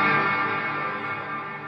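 Electric guitar running through a reverb pedal on a large pedalboard, a sustained chord washing out with a long, slowly fading reverb tail, steady and fairly quiet with no voices.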